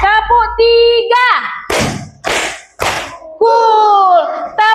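Schoolchildren in a class clap in a short counted routine: three crisp group claps land in quick succession, framed by loud chanting voices before and after.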